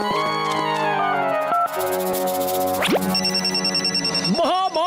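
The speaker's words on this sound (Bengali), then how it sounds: "আপনি রিবনটা কাটতে না কাটতেই আর হেল্পলাইনের বেল বাজলো" A helpline telephone bell rings in a cartoon, a loud, bright electronic ring that sweeps and wobbles in pitch and layers over busy cartoon sound effects.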